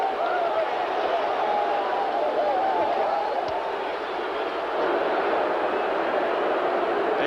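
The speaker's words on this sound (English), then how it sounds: "now the crowd is getting out of control and coming onto the field" Roaring football stadium crowd, a packed college game between Washington and Arizona, as fans storm onto the field cheering; dense, loud, continuous crowd roar with scattered shouts throughout.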